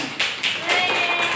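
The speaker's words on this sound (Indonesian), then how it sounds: "Tepuk tangan." Classroom audience claps in a short, close burst of hand claps that stays steady across the brief moment, with no talking over it.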